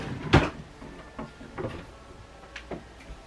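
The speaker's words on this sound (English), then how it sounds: "I'm gonna hang this on my closet door." A fall decoration is hung on a closet door, giving a few scattered knocks and light clatters, one sharper thump near the start followed by softer taps, close by with no talk.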